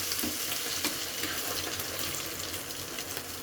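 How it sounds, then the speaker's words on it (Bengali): Eggs sizzling in a frying pan at night, an even, steady crackle of hot oil with scattered small pops, close and moderately quiet, no voices. "এই যে দেখো আমার ডিম ভাজা"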